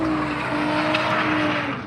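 Drift cars at a Drift Matsuri on the Minami Course at Ebisu Circuit in Fukushima, Japan, with a loud, steady engine roar and tire noise sustained throughout, high-revving tones holding on without a break.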